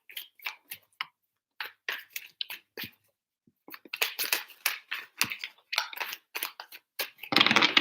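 Tarot cards being shuffled by hand, with quick papery riffles and slaps in irregular bursts separated by short pauses, ending in a longer dense flutter, close and fairly crisp with no talking.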